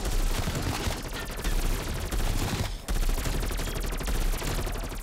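Rapid burst fire from a gun cutting down zombies in Call of Duty Cold War zombies mode, a dense continuous rattle of shots that pauses briefly once, loud and close, with little talk.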